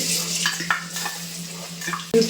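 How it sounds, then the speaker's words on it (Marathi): Chili and garlic thecha crackles as it hits two spoons of hot oil in a pan for dry fenugreek greens. Short sputters and a few light clinks sound close and brief. "हे मिरची आणि लसणाचा ठेचा आहे हे मी आता टाकून घेते."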